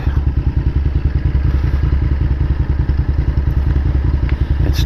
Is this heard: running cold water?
no